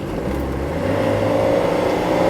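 Mercedes-Benz 240D W123 non-turbo diesel sedan driving, a steady low engine drone with road rumble heard from inside, holding even throughout with no talk.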